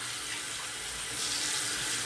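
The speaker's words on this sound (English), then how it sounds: "I'm just running hot water in it right now." Hot water runs steadily from a tap into a bowl holding MacDuff soap, a continuous close splashing hiss that swells slightly louder partway through, with no voices.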